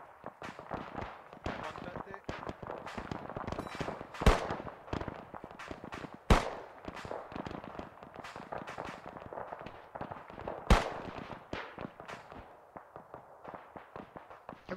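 Gunfire in a WW2 battle video game at Bloody Gulch: a dense, irregular stream of sharp cracks and pops, with a few louder close shots standing out, under ongoing voice chat.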